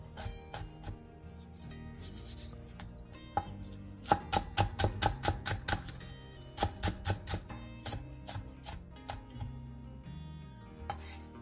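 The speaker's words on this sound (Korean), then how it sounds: "청양고추 1개와 홍고추 2분의 1개, 대파 3분의 1개를 길게 반으로 가른 뒤 쫑쫑 썰어주세요." A knife chops chili peppers and green onion on a cutting board in quick bursts of crisp, rhythmic taps, close and clear, with short pauses between runs.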